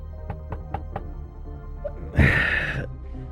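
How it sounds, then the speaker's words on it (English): A short run of four distinct knocks on a door, fairly close and evenly spaced, then a louder burst of broadband noise after a brief pause. "Then you get a knock at the door."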